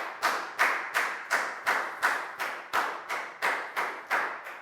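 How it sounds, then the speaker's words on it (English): Steady rhythmic hand clapping, about a dozen sharp claps in even succession, close and fairly loud, with no voices. "High five and a big round of applause for Dan, please, guys."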